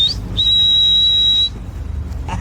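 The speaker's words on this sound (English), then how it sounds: "No, loud ass whistle" A loud, sharp whistle holds one steady high pitch for about a second, starting just after a brief chirp and cutting off abruptly, over low background rumble.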